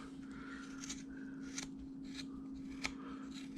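A knife carves wood on a hand-carved hillbilly dog figure, giving faint, close scraping and shaving cuts that come in short repeated strokes over a low steady hum.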